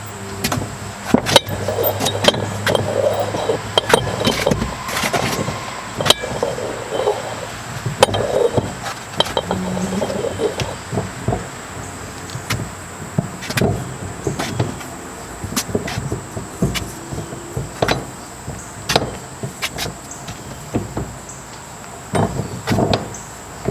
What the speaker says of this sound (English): with our lug nut wrench, we'll take off this bolt that's holding the tire down